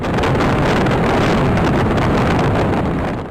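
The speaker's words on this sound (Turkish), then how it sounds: "Antalya'da saatteki hızı 145 kilometreye ulaşan rüzgar yüzünden sahildeki banklar yerlerinden söküldü." Loud, roaring coastal wind of up to 145 km/h in Antalya buffets the microphone continuously, a dense rushing noise with no voices.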